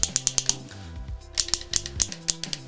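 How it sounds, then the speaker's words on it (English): A barbed sprinkler saddle is screwed down through poly irrigation pipe, giving a close series of sharp ratcheting clicks and plastic creaks in quick rhythmic bursts, with no talk. "we're gonna take the barbed portion of this and we're going to screw it down"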